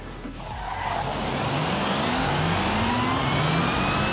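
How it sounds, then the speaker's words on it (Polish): A Ford Transit SuperVan 4 in the Forza Horizon racing game accelerates hard, its engine note climbing steadily through a gear change with faint tire squeal, loud and continuous throughout. "ta zmiana z jedynki na dwójkę jest fajna, posłuchajcie"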